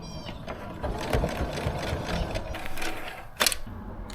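A sewing machine stitches a reusable fabric shopping bag outdoors, running in uneven bursts of rapid mechanical chatter, with a sharp clack near the end.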